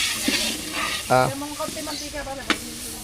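Steady sizzling of meat frying in browning butter in a pan, with a few short tonal clinks and a faint voice in the background.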